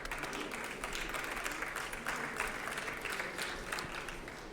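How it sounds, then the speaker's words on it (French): Steady audience applause fills the room at an environmental business awards ceremony, a dense, even wash of many hands clapping that holds at a constant level with no voices over it. "On peut l'applaudir."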